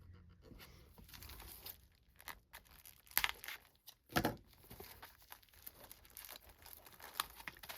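Plastic wrap crinkling and tearing as it is pulled off a new academic planner, a run of soft close-up rustles with two sharper rips midway, no talking.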